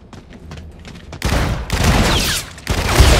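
Full-auto E-Rad rifle fire in a Call of Duty: Infinite Warfare zombies match, loud continuous bursts that start abruptly partway in, pause briefly, then resume, after a quieter stretch of scattered shots.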